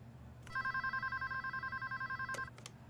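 An electronic telephone bell rings steadily in a doctor's office room, a rapid warbling trill lasting about two seconds with a faint background hum before and after, no voices present.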